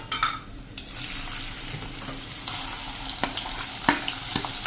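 Chopped onion sizzles in hot oil with whole cumin, a steady close hiss broken by clinks and scrapes of a spoon stirring in the pan, no voices.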